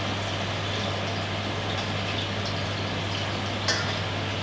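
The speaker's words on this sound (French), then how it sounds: "Donc on les fait frire un petit peu, on va dire 1 minute de chaque côté." Aubergine and spiced beef nems fry in hot oil, a continuous dense crackling sizzle at close range with a steady low hum beneath and one small clatter near the end.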